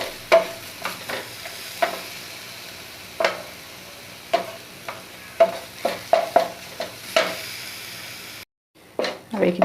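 Rice flour is stirred and dry-fried in a pan over a low flame for jun pitha, with repeated close scraping strokes over a steady soft sizzle and a brief gap near the end.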